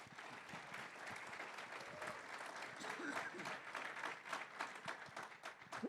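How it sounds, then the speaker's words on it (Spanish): An audience at a public forum applauds, a dense ragged clapping that holds for several seconds at moderate level while voices and cheers mix in underneath. "Aplauso."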